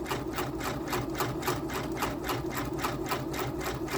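A Janome sewing machine runs slowly at an even pace, its needle thumping in a regular rhythm over a constant motor hum, close and steady throughout without any talking.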